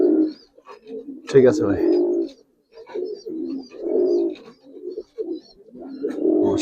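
Low, throaty cooing from a pair of Tambalal pigeons comes in repeated bursts, near and fairly loud, with someone speaking briefly among them.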